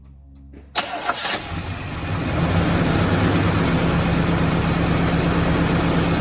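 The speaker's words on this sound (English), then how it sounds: "Not too bad for a motor that's been sitting at least 10 years. Nice, smooth, even running." A 1970 Chevrolet Impala engine that sat for at least ten years cranks briefly, catches with a couple of sharp bursts, then settles into a loud, smooth, even idle close by, with no talking.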